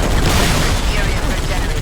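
Gunfire in the Halo Reach mission ONI Sword Base on Xbox Series X: dense, continuous loud shooting and booming battle noise fills the whole stretch without a break.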